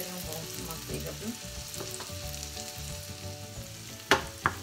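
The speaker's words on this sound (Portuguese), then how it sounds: "Deixa ela dar uma refogadinha bem boa aqui. Deixa ela murchar, né?" Onion softening in butter in a pan for a meat and milk rice dish, giving a steady close sizzle with faint stirring scrapes and two sharp clinks near the end; no one speaks.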